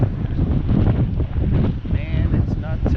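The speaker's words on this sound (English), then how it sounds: "She's windy, man." Strong wind roars and buffets across open water during a spring brown trout fishing trip from a boat, a constant rumbling gust noise over the microphone with brief faint talk.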